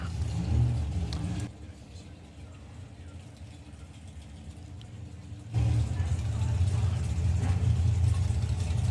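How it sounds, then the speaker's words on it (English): Engine noise from drag racing, a Nissan 180 lined up alongside a dragster at a drag strip; loud low engine roar drops back briefly, then surges again near the end. "different appearance for Darren Huxley with the Nissan 180, going alongside the Nightmare Dragster of Jess Bishop."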